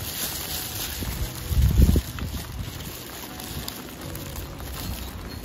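Rain falls steadily outdoors on a street in the Netherlands, a soft continuous hiss with a brief heavier rumble partway through.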